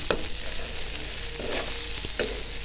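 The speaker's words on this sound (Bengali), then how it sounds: "এই যে দেখুন, আমার করলাটা প্রায় ভাজা হয়ে আসছে।" Food sizzles softly and steadily in a pan, with a few faint scraping clicks of stirring.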